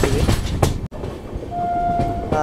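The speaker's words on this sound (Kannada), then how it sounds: "ಇಲ್ಲಿ ಯಾವುದೋ ಟ್ರೈನ್ ಐತಲ್ರಿ" A train stands at the second platform of an Indian railway station, giving a loud rumble with a clunk and a brief high tone, close by.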